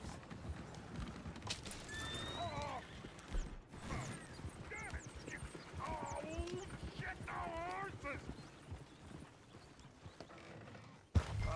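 Hooves clip-clop and a horse whinnies in a Red Dead Redemption 2 game scene, with birds chirping and pigeons cooing over a steady outdoor ambience and occasional voices.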